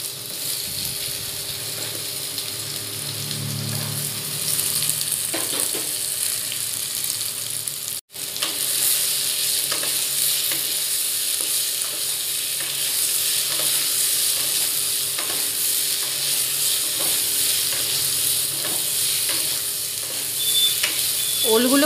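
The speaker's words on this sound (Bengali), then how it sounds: "ওলগুলোও খুব ভালোভাবে ভেজে নিতে হবে।" Boiled elephant foot yam pieces and browned potatoes fry in a wok, a steady close sizzle broken by scraping stirs of a spatula, continuing throughout with one brief drop.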